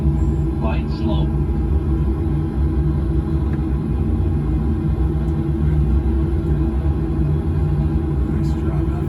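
Small airplane engines rumble steadily in flight, a constant low drone filling the cabin while a voice speaks over it.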